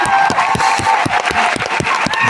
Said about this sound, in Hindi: अभी तो आप चीयर लीडर की तरह चीयर कर रहे हो